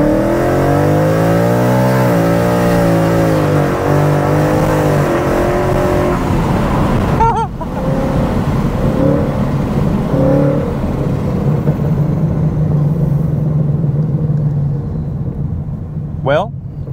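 Supercharged 800+ hp 2021 Ford Mustang GT launching hard and accelerating, its loud engine note climbing through rising sweeps, then a brief gear-change break before the engine drones on under steady cabin talk.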